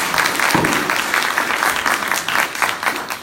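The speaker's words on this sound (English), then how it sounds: "Let's have a round of applause for Yasmine." Audience applause at the close of a talk and book event, dense broadband clapping sustained steadily throughout, with only slight swells and no voices heard above it.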